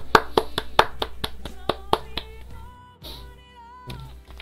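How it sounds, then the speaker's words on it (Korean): Brief hand clapping added as a celebratory effect after a finished fan art drawing of a marten from the indie adventure game, a quick burst of crisp claps fading into a soft tonal chime. "박수."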